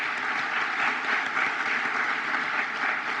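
Sustained audience applause for floral design students at a school district State of the District event, an even, continuous patter of many hands clapping at moderate loudness.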